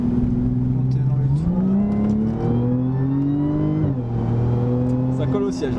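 An Audi S4 V6T engine and exhaust accelerate hard, a loud, steady drone climbing in pitch through the gears with a brief shift dip, as occupants chat over it.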